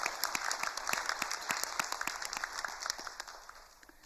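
A church congregation claps during a Sunday service, a fairly small group of sharp, distinct hand claps heard at moderate distance that fades away toward the end.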